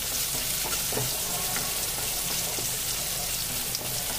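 Steady rain pours down in a dense, even hiss that fills the whole stretch, heard close by in a home kitchen, with faint occasional clinks mixed underneath.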